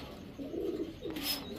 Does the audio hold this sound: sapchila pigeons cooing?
yes